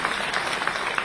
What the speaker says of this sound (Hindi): आइए तालियों की जबरदस्त और पुरजोश गूंज के साथ इस तकरीब का आगाज करते हैं